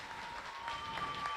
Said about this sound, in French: on peut offrir une belle main d'applaudissements